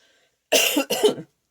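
A single close cough in two quick bursts, sharp and throaty, standing alone against silence.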